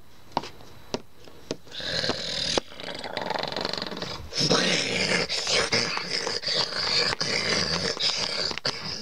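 A dog growls in low, rumbling snarls that build from a few faint sounds into a loud, sustained, throaty growl, close and alone.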